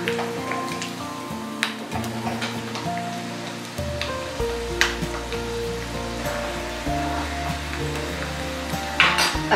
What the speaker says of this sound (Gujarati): અહીં આ શિંગદાણા સારી રીતે ફ્રાય થઈ ગયા છે